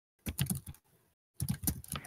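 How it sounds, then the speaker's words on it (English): Computer keyboard keys clatter in quick bursts of clicks during an online Battlefield 1 beta session, two short flurries of typing separated by a brief pause, close and fairly quiet. "somebody's typing again"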